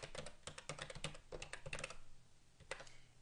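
Rapid clicking keystrokes on a computer keyboard as a password is typed, arriving in quick close bursts with a short pause before a few final taps, with no talk.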